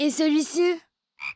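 Cartoon frog in a French children's animal show croaking twice, loud and close, with a short spoken question after a brief pause.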